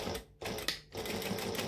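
Sewing machine running stitches along a fabric shoulder bag, a loud close whirring hum broken by two brief pauses before carrying on steadily.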